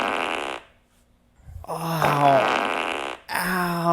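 A fart, tonal and buzzy, sounds in two loud bursts, the second long and sustained, after a brief spoken exclamation and a short silence.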